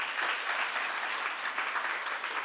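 Church congregation applauding together, a dense, steady wash of clapping that continues without a break and sounds close and full.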